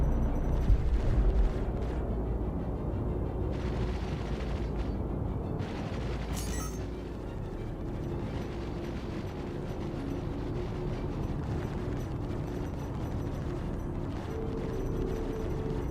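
Ship weapons fire and explosions hitting the player's ship in a space combat video game: a steady rumbling barrage of booms and blasts with a brief sharp crack partway through, loud and continuous, no voices.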